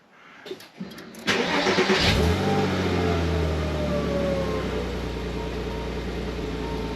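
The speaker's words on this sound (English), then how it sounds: "Start engine." A car engine cranks briefly, catches around the one-second mark, then settles into a steady, loud idle that hums on for several seconds, during a car battery analyzer test.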